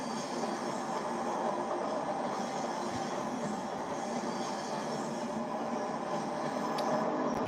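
A locomotive-hauled train on the Ruhr-Sieg Nord line in Train Sim World 2020 rolls along steadily, a continuous moderate rumble of wheels on rail with faint clicking and occasional squeal, with no voices.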